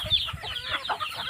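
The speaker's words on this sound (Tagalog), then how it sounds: "Dami ng manok dito." Chickens on a Philippine farm clucking close by in a short, busy burst of overlapping calls, loud and clear with no talking.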